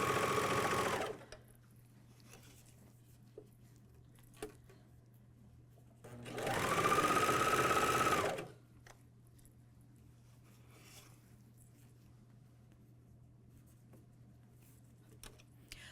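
A MyLock 454D serger stitches a pajama top in two short bursts of whirring, rising to full speed, separated by a quiet pause over a faint steady hum.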